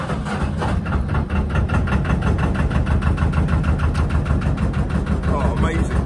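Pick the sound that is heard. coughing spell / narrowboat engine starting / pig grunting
narrowboat engine starting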